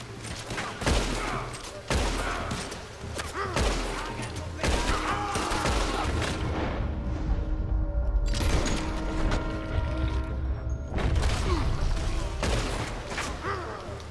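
Gunfire in the Red Dead Redemption 2 video game: repeated sharp shots and bursts in a busy firefight that lasts the whole clip, with loud, dense cracks over a mechanical rumble and clatter.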